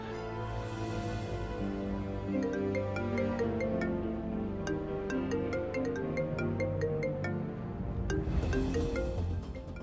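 A phone rings in a dramatic TV series scene, its tones sounding faintly and repeatedly over a dense, steady musical bed.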